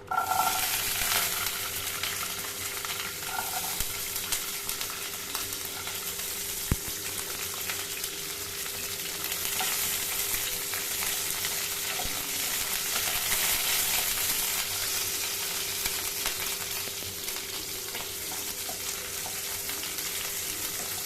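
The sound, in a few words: onion and garlic frying in hot oil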